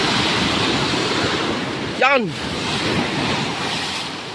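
Big ocean waves rolling and breaking in a continuous, fairly loud wash of surf mixed with wind noise, with one short spoken exclamation midway.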